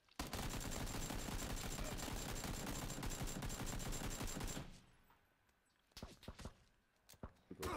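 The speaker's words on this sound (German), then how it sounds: "Da wird schon geschossen." Dense, sustained automatic gunfire in an online shooter game for about four and a half seconds, then a lull broken by a few scattered, sharper shots.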